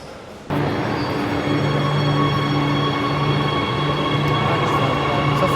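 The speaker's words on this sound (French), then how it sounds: "on est dans le métro avec Selmen" Interior of a moving metro train in Spain: steady loud rumble of wheels on rails with a droning motor hum and faint squeal, starting abruptly and continuing evenly.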